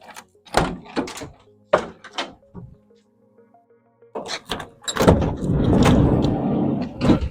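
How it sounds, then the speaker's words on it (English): The rear double doors of a detailing van are unlatched and swung open, giving a few sharp clunks and thuds, a pause, then a burst of rattling movement and another bang, close by. "let's go ahead and open up these double doors"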